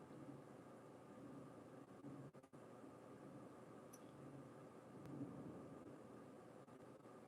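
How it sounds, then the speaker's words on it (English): Thunder rolls outside, a low, steady rumble heard faint and distant from indoors, with no voices over it. "It's literally thundering outside"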